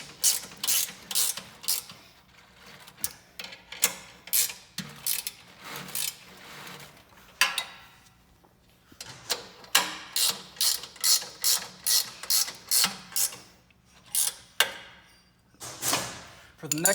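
Rapid ratcheting bursts from a 3/4 inch ratchet wrench tightening bolts on an Aztec Sidewinder brush drive, repeated clicking runs with short pauses, close and fairly loud.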